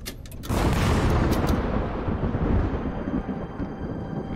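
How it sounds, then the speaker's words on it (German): A loud thunderstorm rumbles through the Sleep Paralysis video game, starting with a sharp crack and then rolling into a heavy, continuous roar that fades slowly. "Ist hier so ein lautes Gewitter?"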